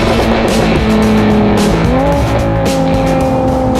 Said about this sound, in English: in a car that looks this good and sounds this fantastic and goes this well